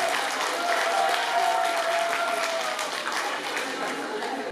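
Applause at a school event for a first-year class, many hands clapping steadily in a hall with a faint background hum and crowd murmur, fairly loud and sustained throughout.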